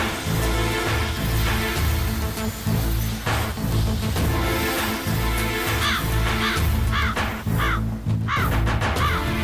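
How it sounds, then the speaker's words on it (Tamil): A crow caws repeatedly in a Tamil television drama scene, a series of harsh calls standing out over a dense, loud music bed that runs throughout. "மறுபடியும் இந்த காக்கா கத்துது"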